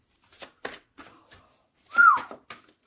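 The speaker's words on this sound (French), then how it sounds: "Non, c'est pas bien sifflé, pardon." A person whistles a few short, breathy, uneven notes, ending on one clearer sliding tone, close and alone.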